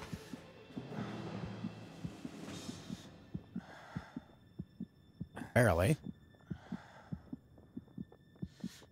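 A low-health heartbeat thumps steadily in the survival game Smalland, with the character's heavy breathing between beats and a brief voice speaking partway through.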